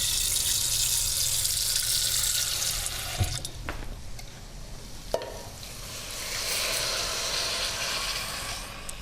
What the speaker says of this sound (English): into this, what we're going to do is we're going to add a little water